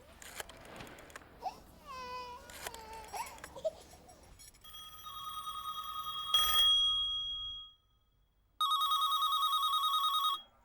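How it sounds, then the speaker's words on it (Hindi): An electronic phone ring sounds in bursts after some brief baby-like babbling and noises, with a pause before a final loud ringing stretch. "एमपी के घर बेल जा रही है,"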